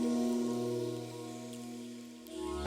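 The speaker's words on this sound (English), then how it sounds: "It's raining outside." Rain falls steadily outdoors before a run, a close, even wash of patter over a constant low humming drone, with no talk and a slight swell at the very end.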